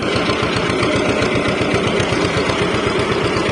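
Tractor engine running with a hay mower during haymaking, a loud steady pulsing drone with a fast regular chugging rhythm and no talk.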